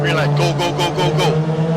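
Race cars pulling away from the start at Lime Rock Park, engines droning loudly and close with pulsing revs as the field accelerates, under a commentator's voice.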